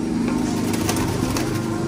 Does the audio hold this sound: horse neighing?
no